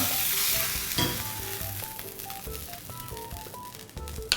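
Sea bass sizzling and crackling steadily in oil in a pan, with scattered clinks of a utensil and faint tonal beeps over the frying.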